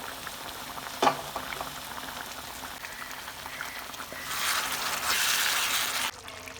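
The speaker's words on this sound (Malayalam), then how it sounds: "ഇതിലേക്ക് ഒരല്പം ചൂടുള്ള വെള്ളം ഒഴിച്ച് നല്ലോണം ഇളക്കി യോജിപ്പിച്ചെടുക്കാം" Chicken gravy for a Mughlai chicken simmers and bubbles in a pan at moderate level, with a brief stirring clatter near the start and a louder, hissing rush of boiling later before it stops abruptly.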